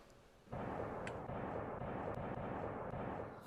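Artillery fire in a war zone around Bahmut, Ukraine, sets off a dense, loud, continuous rumble that starts abruptly and holds steady, with a few faint sharp cracks on top.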